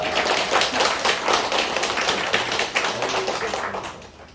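A church congregation claps together in a steady, dense burst of close applause that holds for several seconds and slowly thins toward the end, with no talking over it.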